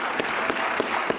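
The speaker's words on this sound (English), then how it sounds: "Oh, there's Cuomo clapping along." A studio audience at a political talk show claps along in a steady, even rhythm, with roughly three beats per second.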